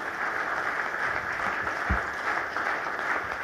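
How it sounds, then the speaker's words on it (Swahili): Steady audience applause fills a formal hotel launch ceremony in Tanzania as guests stand, a dense continuous clatter of many hands at even loudness without pause. "Makofi mengi sana."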